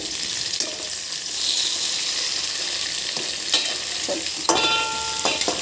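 Sesame seeds, green chilies and a small tomato frying in a pan for gongura pickle, a bright continuous sizzle with occasional clanks and scrapes of stirring, louder near the end.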